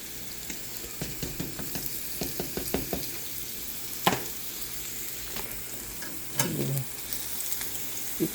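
Tortillas for chilaquiles fry in a pan with a steady close sizzle, broken by a quick run of light scraping stirs early on and a louder clatter of a utensil near the end; no one speaks.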